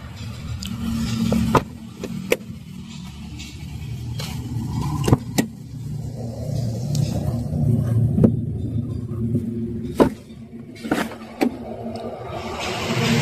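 A secondhand small car's engine idles with a low, steady rumble, interrupted by sharp clicks and knocks of doors or fittings being handled nearby; no speech.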